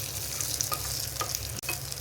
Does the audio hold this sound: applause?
no